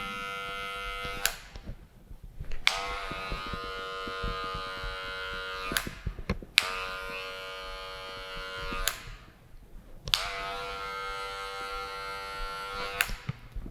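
Electric hair clipper without a guard buzzing steadily through hair during a taper fade, running in three long sustained passes with brief clicks and pauses between them, close and fairly loud.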